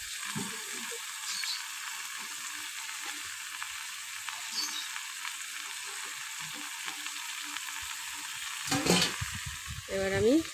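Bottle gourd leaves frying in a small kadai give off a steady, close sizzling hiss, with a burst of scraping, clattering stirring near the end.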